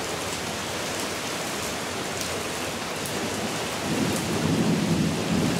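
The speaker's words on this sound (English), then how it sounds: "We're getting rain." Heavy garden rain pours in a continuous dense hiss, with a low rumble of thunder swelling near the end; no voices are heard.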